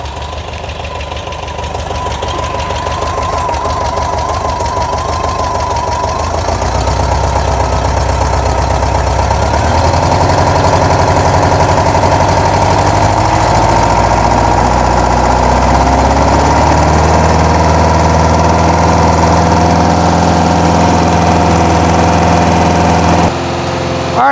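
A 1972 VW Bus engine fitted with a new 38mm carburetor idles loud and close, a steady knocking rumble that rises slightly in pitch as the idle is raised, then cuts off abruptly near the end.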